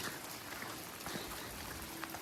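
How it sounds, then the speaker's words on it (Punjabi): Heavy rain falls at a construction site, a dense, even hiss of drops striking surfaces, faint and continuous with scattered sharper taps. "ਮੀਂਹ ਬਹੁਤ ਪੈ ਰਿਹਾ"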